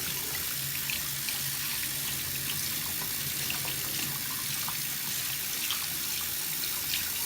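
Running tap water soaking into a beauty blender sponge, a steady close hiss and splash that continues unbroken throughout.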